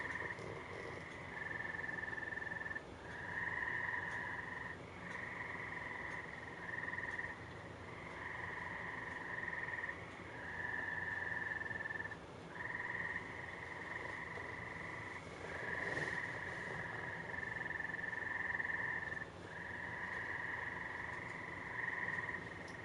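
Frogs keep up a continuous trilling chorus in repeated long bursts separated by short gaps, an even outdoor backdrop heard at moderate distance.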